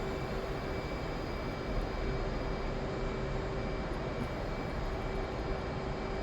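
An F/A-18 Hornet jet engine throttled up for a carrier launch in the DCS flight simulator roars steadily, a loud, even, broadband rush with a sustained whine, alone with no voices.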